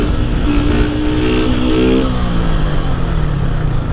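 A Honda Start 160 motorcycle engine revs loudly and continuously during an attempted standing wheelie. The pitch climbs and dips as the throttle varies, with strong wind noise over it throughout.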